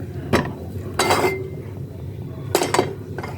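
A metal pan is set on the stove for a Kerala-style potato curry, producing several sharp clanks and clinks at irregular intervals, close by, over a quiet kitchen background.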